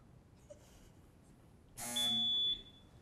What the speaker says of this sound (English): I think the buzzer rang in first